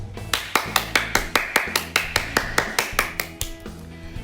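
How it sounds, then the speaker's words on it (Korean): A congregation at a children's church service claps in a steady, even rhythm of about a dozen sharp, close claps, with no talking over it. "우리 감사의 박수를 하나님께 올려드릴까요?"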